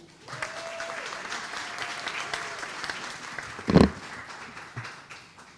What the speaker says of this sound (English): Let's hear a round of applause for the East Ramapo Central School Marching Band.